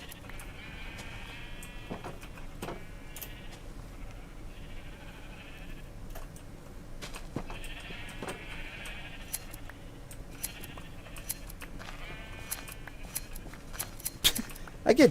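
Sheep bleat repeatedly in Minecraft during shearing, their calls recurring in clusters over a steady low background, with a few sharp shear snips and other game sounds, loudest near the end.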